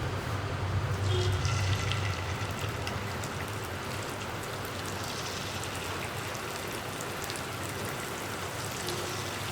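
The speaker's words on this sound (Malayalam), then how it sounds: "ഇതിലേക്ക് നമുക്ക് നമ്മൾ മാരിനേറ്റ് ചെയ്ത് വെച്ചിരിക്കുന്ന ചിക്കൻ സ്ട്രിപ്സ് ഇട്ട് കൊടുക്കാം." Marinated chicken strips go into hot oil and fry with a dense, steady crackling sizzle that holds at an even level throughout, with no clear talk.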